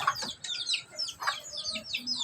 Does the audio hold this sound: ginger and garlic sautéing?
no